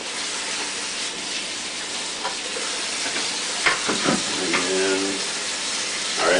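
Running water splashes and hisses over a plastic bucket lid during rinsing, a continuous close wash with occasional brief louder spatters.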